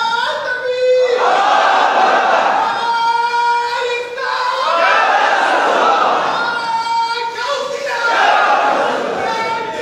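A crowd at a religious gathering shouts the Nara-e-Takbir chant in loud, rhythmic bursts, voices rising together in repeated call-and-response waves that swell and dip several times.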